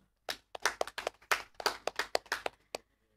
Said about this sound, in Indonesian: Kita berikan aplaus untuk Bapak Raja Twisnu.